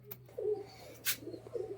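Soft cooing from a white Madras flying pigeon, low and close, in a couple of short murmuring phrases with a brief rustle between them.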